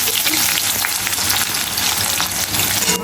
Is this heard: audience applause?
no